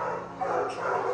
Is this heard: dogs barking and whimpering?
yes